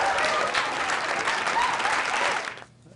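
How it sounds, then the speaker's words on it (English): Loud, dense applause from a large crowd welcoming President Obama, steady for over two seconds and then quickly dying away. "Please give a warm round of applause to the President of the United States, President Obama."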